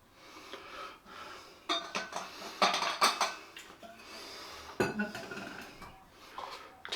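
Bowls, including a silicone one, are handled and knocked together at close range, giving irregular clinks and clatters with soft shuffling in between, while a person breathes nearby.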